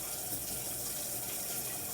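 Tap water runs into a pot of fresh cream-style corn being prepared for frying, a steady hissing, gushing flow close by and uninterrupted for the whole moment.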